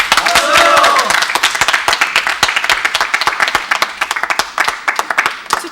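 An office group applauds for a departing married colleague, Kim Mi-seon: dense clapping from a small indoor crowd, loud and close, fading to scattered claps, with a voice briefly over it at the start.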